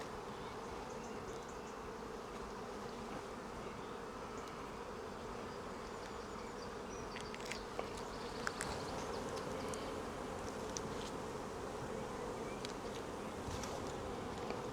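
Honey bees buzz around an open hive in a steady, dense drone throughout. Occasional faint handling clicks and rustles come through over the even swarm sound.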